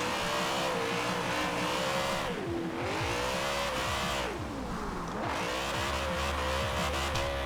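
A BMW E46 M3 GTR drift build in Forza Horizon 4, its engine roaring loud and steady at high revs, with pitch dipping and climbing through two shifts and tire squeal layered over it.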